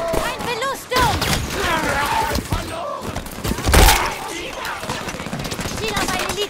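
Bursts of gunfire in Halo 5 Guardians, rapid and close, clatter beneath German-speaking game voices and shouting, with a heavier thump near the middle.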